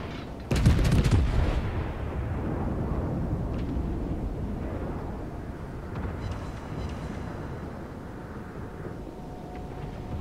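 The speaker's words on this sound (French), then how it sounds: "On a entendu l'explosion du missile, l'explosion du Kaiser, je suppose." Naval gunfire and shell explosions in the World of Warships video game, with a sharp blast near the start followed by a continuous rumbling wash of distant detonations.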